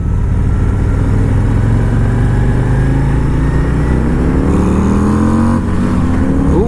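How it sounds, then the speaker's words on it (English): A Harley-Davidson Road Glide ST motorcycle accelerating on a road, its engine loud and close with a steady rumbling drone that climbs in pitch through the gear, sustained throughout with no talking. "Let's go into first as we pull onto this road. I think this is where we accelerate a little bit, so we'll see what she's got."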